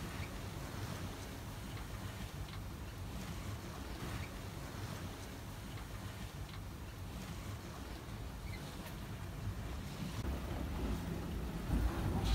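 Sailboat heeled over and underway at sea between the Isle of Man and Liverpool, with a steady wash of waves and wind noise across the microphone, rising slightly toward the end.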